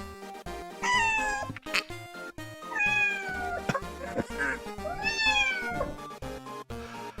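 Two cats on an old table in a video game trade a long series of loud, drawn-out meows and yowls, close and clear, alternating back and forth.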